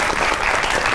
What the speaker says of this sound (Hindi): बहुत सी तालियों में वाह।